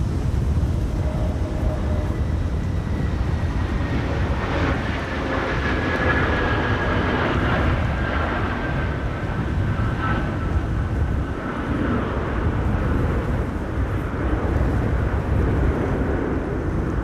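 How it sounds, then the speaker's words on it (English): A Suriname Airways A340 being towed by a tug at Amsterdam Schiphol Airport during a storm gives a steady low rumble and drone of engines and machinery, continuous and fairly distant under wind noise. "Suriname A340 is on the move. And they are tugging it."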